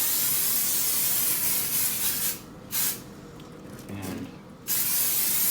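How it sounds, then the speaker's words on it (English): Mould release hisses from a spray can onto a brain casting mould in a few short bursts, close and steady, with brief pauses between sprays and a single spoken word. "Also, going to spray some more on this side."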